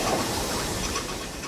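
Steam locomotive in a steam shed at Bulawayo, heard as a dense, loud, continuous hiss and rumble with no clear beats, and no talk over it.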